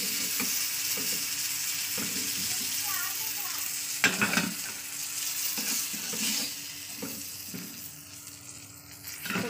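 Fish fries in hot oil in a kadai with a constant close sizzle, broken by a few scraping and clattering knocks of a spatula turning the pieces.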